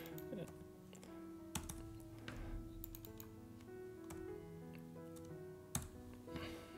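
Someone types on a computer keyboard while working in design software. The quiet, irregular key clicks come with a couple of sharper taps, over a faint steady background hum.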